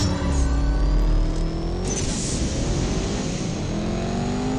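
An Alpine A110 in the CSR2 racing game, its engine holding a loud, steady high rev with rising gear-whine tones, close and continuous without a break.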